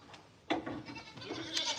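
Pet goats on a family farm bleat nearby, a couple of short nasal calls rising out of a quiet outdoor background with no talking.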